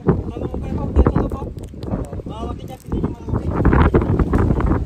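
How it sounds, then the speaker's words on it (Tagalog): Strong gusts buffet the microphone across an open farm field where green peas grow, with a roaring, fluctuating rumble that swells and dips, partly under a voice talking. "Sobrang lakas ng hangin!"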